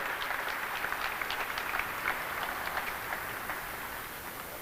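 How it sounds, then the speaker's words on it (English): An audience at a live-streamed event gives a steady round of applause, a dense, even patter of many hands that holds moderately loud and then eases slightly toward the end. "So please give them all a round of applause."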